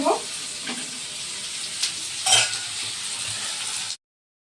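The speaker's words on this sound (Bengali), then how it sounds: "পেঁয়াজ কুচি রসুন কুচি সব দিয়ে এবার ভালো করে ভাজা ভাজা করবো।" Chopped onion and garlic fry in a pan with a soft, steady sizzle, punctuated by a couple of utensil scrapes and clinks before the sound stops abruptly.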